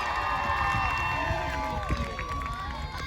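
Outdoor crowd cheering at a jousting tournament at Hampton Court Palace, a dense mass of shouts and whoops from many spectators, including children, with an announcer's voice running through it and a brief thump partway through.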